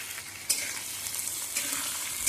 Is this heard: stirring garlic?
yes